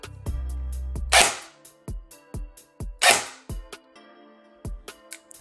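ARES Amoeba AM-016 airsoft gun fired semi-automatic: about a dozen sharp, close individual shots at an irregular pace, two louder bursts among them, with no talk.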